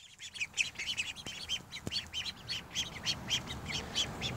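Farm ducks, including young ones, give a steady chorus of rapid, high chirping and peeping calls at moderate distance, continuous and fairly faint, with no talk.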